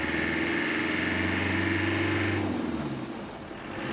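A 1988 Land Rover Santana with a turbo engine drives in second gear, its engine droning steadily and close, then easing off near the end amid road and cabin noise.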